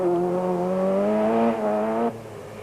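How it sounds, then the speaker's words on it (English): A Class A two-wheel drive Toyota Conquest rally car on a forest stage, its engine revving high and rising in pitch for about two seconds before cutting off abruptly, fairly loud and without talk. "Johan Clements and Brian Duncan also in a Class A two-wheel drive Toyota Conquest."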